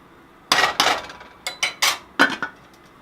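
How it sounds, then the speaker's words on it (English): Rice being stirred in a pot for Spanish rice brings a handful of loud, close metallic clanks and scrapes of a spoon against the pot, in short irregular bursts. "stir the rice in. I want to make sure everybody gets well blended."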